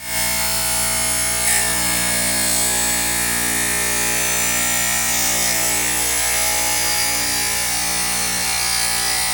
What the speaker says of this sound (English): I take the pods to the tile saw and carefully cut them in half